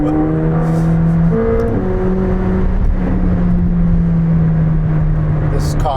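A McLaren 765LT supercar accelerates with a loud, close engine drone whose pitch climbs, drops sharply at a shift, then holds a steady hard-pulling tone.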